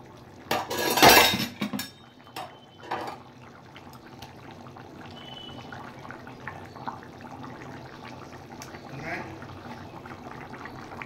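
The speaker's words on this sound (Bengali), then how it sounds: "এবার আমি দিয়ে দেব ভেজে রাখা পনির।" Fried paneer pieces tipped into a pan of jackfruit curry, with a burst of clattering utensil-on-pan scraping near the start, then a quieter kitchen background with occasional soft clinks.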